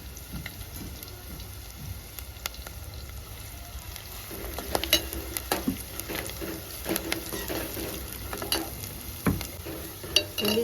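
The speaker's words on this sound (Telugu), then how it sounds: "దాంట్లోనే ఒక 3 ఒట్టిమిరపకాయలు, ఒక 2 రెమ్మల కరివేపాకు వేసుకొని బాగా ఫ్రై చేసుకుందాం." Dried red chillies and curry leaves fry in hot oil in a pan for a Telugu mutton gongura dish, giving a soft, steady sizzle with scattered crackles and stirring scrapes, close and fairly quiet.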